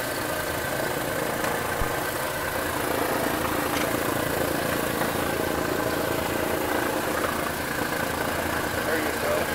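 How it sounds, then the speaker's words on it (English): Radial engine of a Douglas DC-3 aircraft running just after start-up, a steady, loud rumbling drone that holds throughout, with a voice talking over it. "Okay, we got this first engine running over there."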